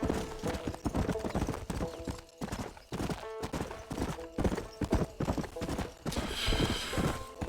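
In the video game Red Dead Redemption, a horse's hooves clip-clop in a quick, rhythmic gallop, close and fairly steady, with a brief snort or whinny near the end.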